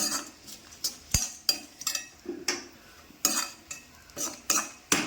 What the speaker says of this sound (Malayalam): ഇതങ്ങ് ഒഴിച്ചു കൊടുത്ത് ഇളക്കി കൊടുക്കാം